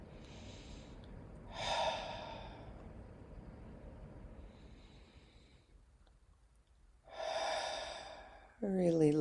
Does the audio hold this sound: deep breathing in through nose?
yes